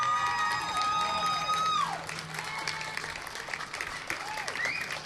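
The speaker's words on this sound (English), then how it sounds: "Can we give a round of applause to the Hope the Mission outreach team?" Outdoor crowd at a press briefing applauding an outreach team, a few whoops and cheers rising over the clapping at first, then the applause continues more softly.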